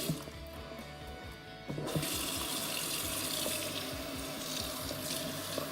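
Cold tap water runs while hair is rinsed, first a softer trickle, then a louder steady gush after a jump in flow, close and continuous with no talking.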